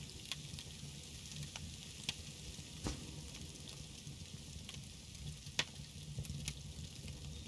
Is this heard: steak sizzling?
yes